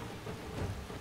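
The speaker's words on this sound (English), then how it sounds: "I don't want to get rained on." Steady rain in the Far Cry 2 video game, a dense, even hiss with low rumbling like distant thunder filling the whole moment at constant loudness, with no voices.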